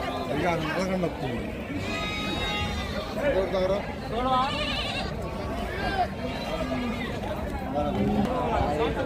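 Goats bleat again and again over the steady chatter of a crowd at the Gudur goat market, with people talking close by throughout.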